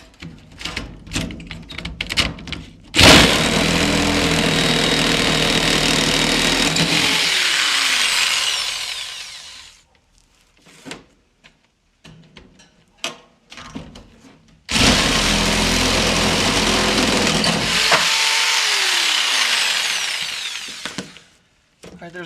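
A power tool cuts a hole through the sheet-metal roof of a Ford Transit van in two loud, sustained bursts of whining, rasping cutting, each about seven seconds long, with short clanks and handling noises between them.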